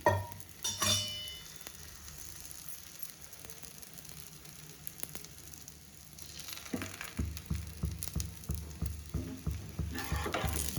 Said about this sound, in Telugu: ఈ చపాతీ కూడా ప్యాన్ మీద వేసేసుకుంటా. ఓకే. ఆయిల్ వేస్తున్నా ఫస్ట్ కొంచెం.